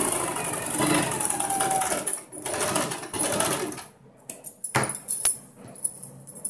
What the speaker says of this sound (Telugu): ఒక సైడ్ మడిచి కుట్టేస్తానండి, దానికి పైపింగ్ వేస్తున్నాను ఈ క్లాత్ తోటి.